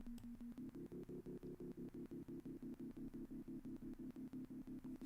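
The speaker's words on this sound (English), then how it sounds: "the VCO's sine wave from the Doepfer 110 Doepfer is going into the FM of the principal oscillator" A Buchla modular synth oscillator, frequency-modulated by a sine wave from a Doepfer 110 VCO, produces a quiet buzzing tone that pulses in a fast, regular throbbing rhythm throughout.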